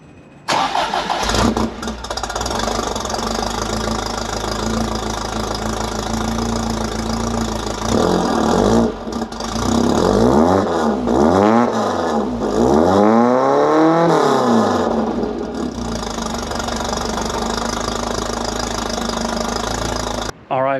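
A Fiat X1/9 with an aftermarket exhaust cranks, catches and settles into a loud, rumbling idle. It then revs up and down several times in quick swells before returning to a steady idle and cutting off.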